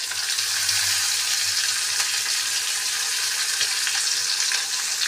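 Chopped onion, with whole garam masala, sizzles in hot oil in a pan for an egg curry, giving a continuous bright crackling hiss with faint stirring. It is close and steady, with no talking.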